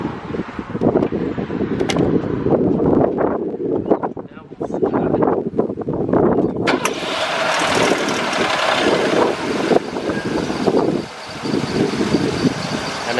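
A car engine idles just after start-up with a new timing chain fitted, a close, rough, steady running clatter with wind buffeting the microphone and people talking over it.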